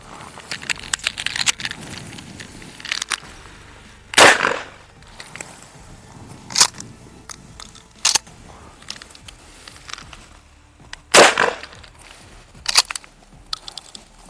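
Sport-cartridge shotgun shots fired at targets on a range, about six sharp cracks spaced unevenly apart, moderately loud against quiet background noise.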